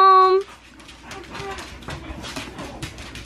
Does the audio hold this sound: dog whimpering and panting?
yes